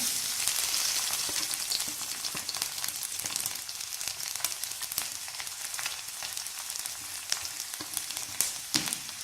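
Garlic sizzles steadily in hot frying oil for a bitter gourd pickle, a dense, close crackling hiss that runs throughout with scattered sharp pops and no voices.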